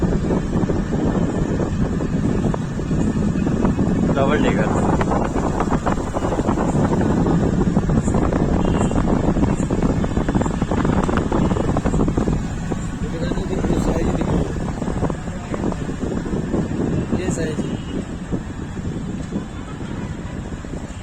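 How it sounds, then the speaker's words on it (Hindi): Cool night wind rushing steadily over the open top of a double-decker bus on a city tour in Indore, a continuous blustery roar across the whole stretch while people talk over it. "भाई ठंडी हवा चलनी स्टार्ट होगी ना।"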